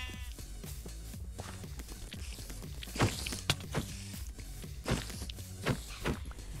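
Sheep in the Minecraft video game bleat in a few short calls among footstep sounds and background game music, fairly quiet overall.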